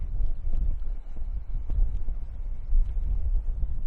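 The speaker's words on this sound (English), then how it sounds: "Wind's picking up again." Wind blowing across a countryside walk in Kent between Farningham and Eynsford, a low rumbling buffet against the microphone, steady and fairly loud with brief gusts, no speech.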